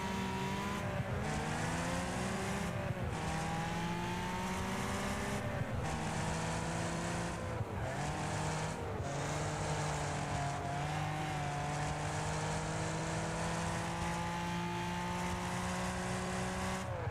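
Several race car engines in the video game Wreckfest, droning and rising in pitch through gear shifts, a loud continuous whine throughout.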